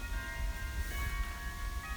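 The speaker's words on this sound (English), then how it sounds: "Hear the church bells?" Church bells ring in the distance, sustained metallic tones hanging steadily in the air over a low background rumble, faint and far off with no one speaking.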